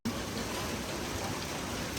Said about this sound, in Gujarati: વરસાદ તમે જોઈ શકો છો ફૂલમ ફૂલ આજે સવારનો ચાલુ છે વરસાદ